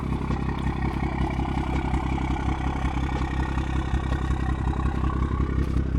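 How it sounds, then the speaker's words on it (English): A BMW B58-engined car tuned to 500 wheel horsepower idles steadily nearby, a constant low rumbling drone with a fine mechanical patter and no speech over it. "listen to that idle"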